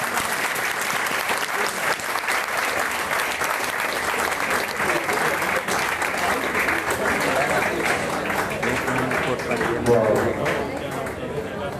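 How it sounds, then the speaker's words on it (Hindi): An indoor audience at a company leader's event in Ayodhya claps steadily and loudly to welcome a speaker, the dense applause filling the whole stretch with faint voices mixed in. "तालियों के साथ स्वागत तो कीजिए।"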